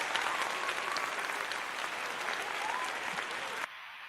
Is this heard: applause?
yes